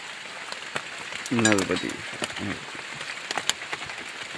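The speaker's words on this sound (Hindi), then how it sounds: "अभी तक बारिश हो रही है" Morning rain patters steadily on a plastic-sheet tent in the Amarkantak forest along the Narmada parikrama route, a close, continuous pattering while someone speaks briefly.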